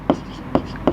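Marker or chalk strokes on a board during a geometry lesson, three short scratchy taps spaced evenly within a second, close and distinct over a quiet room with a speaking voice in the background.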